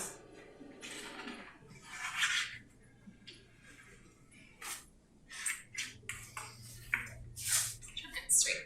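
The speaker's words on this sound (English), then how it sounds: "Just going to squeeze out as much water as we can and lay it out." Indigo-dyed fabric wrung out over water, with irregular splashes, drips and wet squishing bursts close up, some louder spurts of water near the end, and occasional faint talk.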